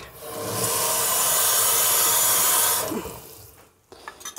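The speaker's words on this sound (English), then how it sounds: "So I want to add more water to this." Water pours in a steady, close hiss into a bowl of corn meal batter for about three seconds, then tapers off into small wet stirring and clinking sounds, with no talking.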